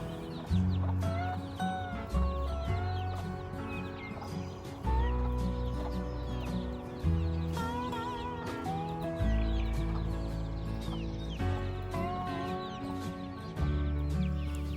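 A homestead hen named Betty clucks among her fourteen chicks, with repeated soft clucks and higher peeping calls over a steady low rumble and background noise, all fairly close.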